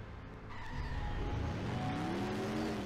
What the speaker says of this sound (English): Ooh, you hear that? Listen to that engine